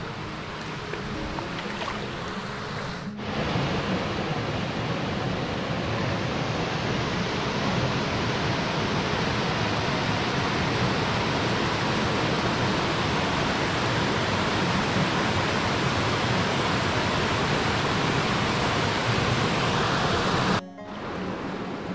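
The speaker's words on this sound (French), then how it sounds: "il y a une belle cascade" Waterfall beside Lake Vouglans in winter, a steady, even broadband rush of falling water that holds constant for most of the clip with no talk over it.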